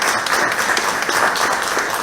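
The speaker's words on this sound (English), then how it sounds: "give her a round of applause." Audience applause fills a civic reception and awards ceremony at a city auditorium, a dense, steady wash of many hands clapping at close range with no break for the full two seconds.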